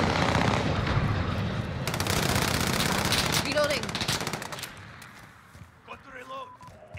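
Rapid automatic gunfire and bursts of shots in the video game Call of Duty Modern Warfare, dense and loud at first, then thinning into scattered rounds, with voices speaking throughout.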